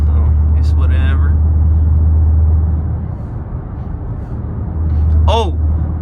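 A 717 hp Dodge Charger Widebody Hellcat, engine not yet warmed up, drones as a loud steady low rumble from inside the cabin while driving, with brief voices and other sounds over it.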